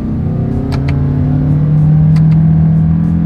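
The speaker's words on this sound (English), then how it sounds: "see how quickly we can get our new 2025 Toyota Crown Signia here up to speed" A 2025 Toyota Crown Signia hybrid pulls away from a standstill in manual shift mode, its engine drone rising steadily and loud from inside the cabin, with a couple of brief clicks over the hum.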